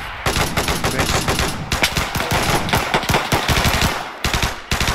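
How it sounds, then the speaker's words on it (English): An MG42 machine gun fires in Arma 3 in long, rapid, loud bursts of closely spaced shots, with a few short gaps between bursts. "It's like MG42."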